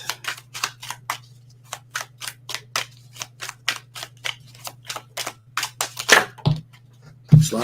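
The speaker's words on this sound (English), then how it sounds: "Sloppy shuffle." Tarot cards are shuffled loosely by hand, a long run of evenly spaced sharp riffling snaps with a steady low hum behind them, ending in a couple of louder handling thumps.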